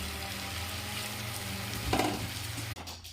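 Rice simmering in a pan with fresh coriander leaves, a steady soft sizzle and bubbling with a brief stir near the end, then a sudden drop to a quieter hiss.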